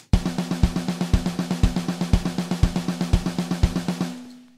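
A programmed snare drum in a Pro Tools session rattles out constant sixteenth notes for a build-up, with evenly spaced, mechanical hits and slightly stronger accents on each beat, then ringing out briefly at the end.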